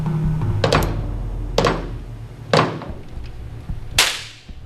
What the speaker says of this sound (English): That was a warning shot, Lorraine.